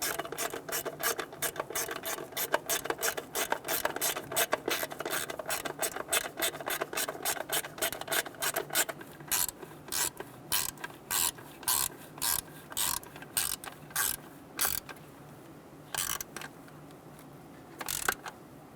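Hand ratchet snugging distributor hold-down bolts on a 1988-1999 GMC K1500 with a 5.7L V8, a rapid run of close clicking strokes that slows into separate short bursts toward the end.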